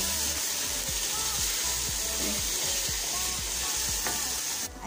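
Minced meat and green beans frying in their own rendered oil, Arabic-style laham, with a steady loud sizzle throughout and repeated soft scraping stirs of a utensil in the pan.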